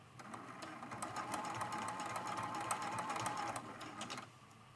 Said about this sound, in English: And now we're sewing all the way around.